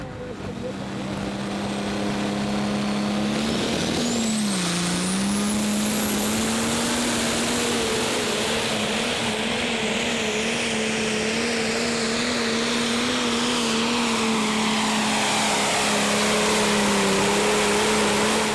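A Prostock pulling tractor named Countdown roars at full power during a pull at a Eurocup tractor pulling event in Herning, Denmark, as one loud sustained engine note with a rising whine.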